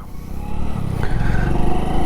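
A motorcycle's engine rumbles steadily at close range as the bike turns through a U-turn, first gear engaged and the clutch eased out gently, the engine note holding without stalling.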